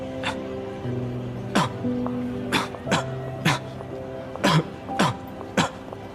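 A string of sharp, hacking coughs repeats at irregular intervals, close and loud, over a quiet steady tonal background.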